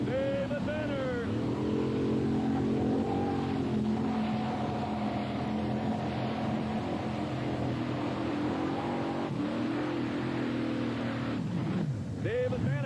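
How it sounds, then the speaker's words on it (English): Modified pulling tractors with big Chevy big block engines at an NTPA pull in Nebraska roar loudly and continuously, the revs swelling and dipping, while an announcer talks over them. "cranking up those big Chevy big blocks"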